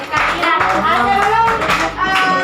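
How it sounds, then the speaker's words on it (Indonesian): Classroom applause for a student group, a dense burst of clapping by many hands lasting throughout, with children's voices mixed in underneath. "Beri aplaus dulu."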